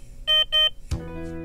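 SPIRIT diaphragm pacing transmitter speaker sounding its alarm, two short bright electronic beeps in quick succession, close and loud, followed by a sharp click and a lower sustained tone.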